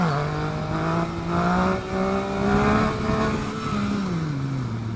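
A 2016 Yamaha FZ-09 motorcycle engine revs hard under acceleration, giving a loud, close, steady droning whine that climbs and dips in pitch over about five seconds, with no talking.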